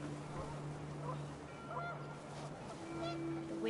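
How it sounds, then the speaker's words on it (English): Panicked geese honk in the video game What Remains of Edith Finch, several sharp honks over a low windy rumble, with a voice faintly under them. "panicked geese appeared and quickly went"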